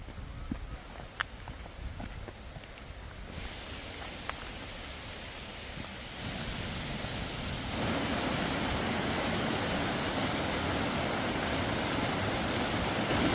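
Giessbach Falls waterfall in Switzerland, a steady broadband roar that swells louder as the listener approaches beneath the falls, with faint footsteps early on.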